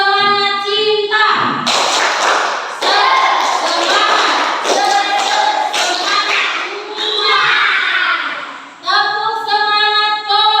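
Fourth-grade children in a classroom clap in quick patterned rhythms while chanting together, the group's voices loud and close over the claps.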